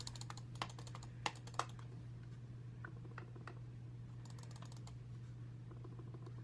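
Quiet typing on a computer keyboard with a number pad, a mechanical-sounding board that is not too loud: irregular soft key clicks in bursts with a few sharper taps, over a steady low hum in a still room.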